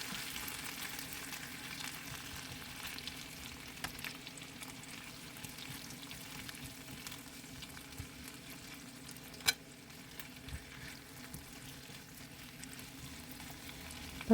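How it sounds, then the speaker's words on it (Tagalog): Fried chicken wings sautéed with browned garlic in a pan give a steady, quiet sizzle and crackle, with a brief clink or stir sound partway through and no talking. "ibalik sa kawali o kaldero ang prinitong chicken at igisa ito ng 2 minuto"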